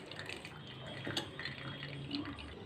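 Water drains off boiled taro in a kitchen, a soft continuous trickle with faint dripping and splashing, close and fairly quiet.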